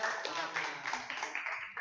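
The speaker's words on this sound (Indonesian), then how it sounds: "mari kita beri tepuk tangan untuk kelompok" Scattered clapping from a classroom audience applauds a presenting student group, a brief dense patter heard under a speaking voice.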